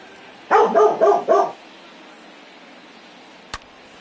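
A dog barks four times in a quick close run, loud and sharp, then a brief click follows after a pause, set against a quiet baseball broadcast background.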